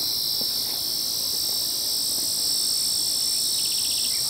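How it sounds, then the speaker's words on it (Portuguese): Cicadas sing outdoors near a dirt road, a loud, continuous high-pitched shrill buzz that holds steadily throughout with faint background noise beneath. "Olha o cantar da cigarra, que bonito."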